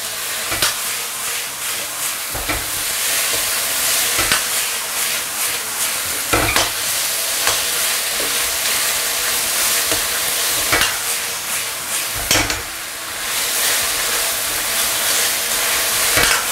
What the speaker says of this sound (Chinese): 快速的翻炒就可以出锅了哈。